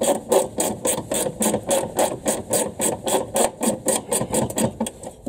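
A ratchet spanner works a bolt on a Honda CRX during driveshaft boot repair, giving a steady run of close, rhythmic clicking strokes, about three per second, with no talk.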